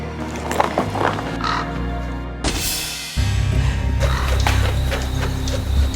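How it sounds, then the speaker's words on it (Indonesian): Crow cawing amid a tense drama scene, with a loud impact-like burst midway as the bird strikes a house window, followed by sustained low rumbling background sound; no speech. "Kenapa burung gagak menabrak jendela rumahku ya?"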